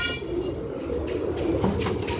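Golden pigeons cooing steadily in a low, rolling murmur, fairly close and continuous over a constant background hum.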